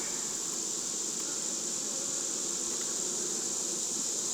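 Honeybees buzzing steadily around an opened hive during a nectar dearth, a continuous close, even drone of many wings with no talking.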